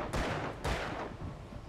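Two sharp, loud gunshots ring out in the Alan Wake video game, about half a second apart, each with a booming low tail and a lingering echo.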